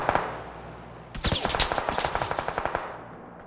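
Rapid automatic gunfire in PUBG crackles in a steady burst of evenly spaced shots after a moment of low ambient hum, fairly close and with no talk over it.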